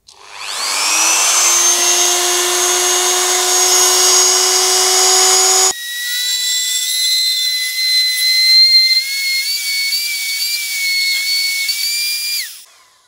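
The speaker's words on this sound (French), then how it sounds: "Je vais faire 2 trous, un ici, un ici." High-speed drill boring holes in a repaired ceramic plate, two sustained shrill whining bursts, the first spinning up and holding steady, the second wavering higher before stopping.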